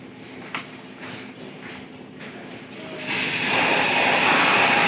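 Compressed air spray gun applying primer outdoors to a 1/6 scale Koto Hulk figure; quiet hiss and faint clicks at first, then a loud continuous high-pressure spraying hiss for the last two seconds.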